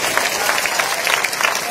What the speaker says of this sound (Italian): Intanto un applauso per i nostri finalisti